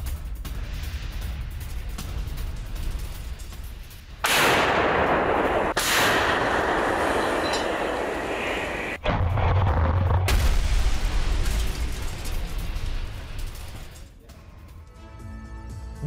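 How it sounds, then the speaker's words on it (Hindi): Russian artillery fire in Donetsk during a military assault, recorded as news footage: heavy, loud bursts of booming fire and blast noise with sustained rumbling, mostly alone with no clear talk. "रूसी आर्टिलरी का विध्वंसक एक्शन, रूस ने यूक्रेन के 3 ठिकानों को उड़ाया।"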